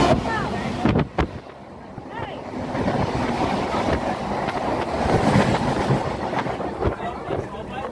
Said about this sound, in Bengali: এখন ট্রেন ছেড়ে দিয়েছে আমাদের সাঁতরাগাছি থেকে